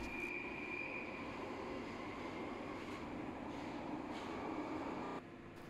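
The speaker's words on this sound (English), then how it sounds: "as soon as you are on it, the train stops bouncing and the new tracks are incredibly smooth" A London Underground Northern Line train running on new, smooth track on the Battersea extension, giving a steady, even rumble and hum with no bouncing that drops away near the end.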